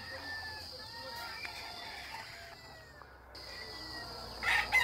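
Hens settled on their nests clucking softly and intermittently, with fowl calls and a crowing-like call in the background and a brief louder burst near the end.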